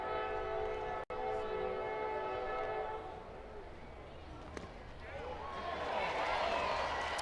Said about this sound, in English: Train making its way in beyond the outfield.